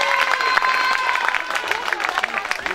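Scattered applause and crowd noise fill the clip at a youth football trophy event, with clapping rising and falling while tonal sounds ring above it.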